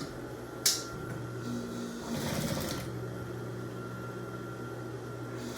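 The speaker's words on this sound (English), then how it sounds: "I'm top stitching those." A sewing machine top stitches an apron's edges, running in a short, soft burst after a sharp click, with a steady low hum throughout.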